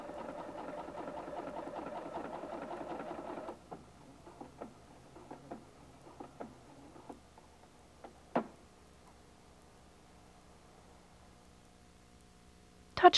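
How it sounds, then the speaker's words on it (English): A Husqvarna Viking Platinum 770 sewing machine sews a single decorative stitch pattern, a steady mechanical whir that stops and gives way to a scatter of faint clicks and ticks, with a sharper click near the end. "Your Platinum 770 will sew only one stitch pattern."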